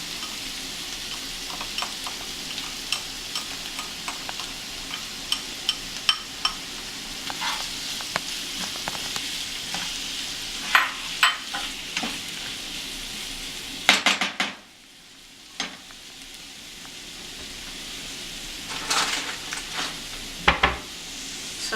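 Garlic fries in a pan during yam and egg cooking, with a soft continuous sizzle under close metallic clinks and scrapes from stirring. A short quieter stretch falls past the midpoint before the clatter picks up again.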